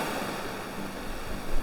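Waves wash onto a secret beach in South Australia in a steady, broad surf hiss with a slight swell at the end, with no voices over it.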